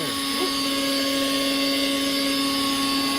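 A kitchen blender whirs steadily and loudly throughout, a sustained motor drone with strong tonal hum while olive oil is prepared for a refreshing summer dish.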